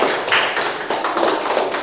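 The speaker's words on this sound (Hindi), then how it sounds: "इनके लिए भी एक जोरदार ताली होना चाहिए" A Hindi dictation class of children gives a burst of brisk, loud hand clapping for a student, a dense patter of claps lasting under two seconds with no talk.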